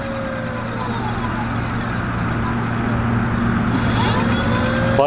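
A ZEV 10 LRC electric super scooter moves in reverse with a steady, loud electric whine and a high tonal hum that holds constant throughout, joined by a faint rising tone near the end.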